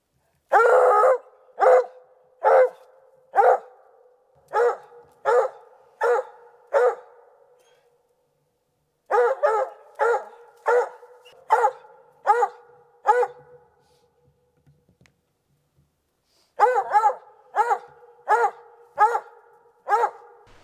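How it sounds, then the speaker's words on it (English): A hunting dog barks loudly and close in three runs of rapid, evenly spaced barks separated by silent pauses, with nothing else heard. "the one and only, the GOAT, the dog that got me started in this business, Bliss Johnson."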